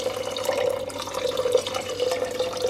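Water poured over rice in a cooking pot, a steady close splashing stream with a constant tonal rush throughout.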